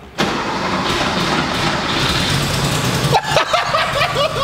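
A barn-find Porsche 911 engine cranks briefly, then catches and runs loud and close with a rough, steady roar, and excited shouting breaks out over it as it keeps running.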